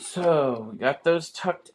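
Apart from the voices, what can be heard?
No distinct noise like a dog, phone or traffic.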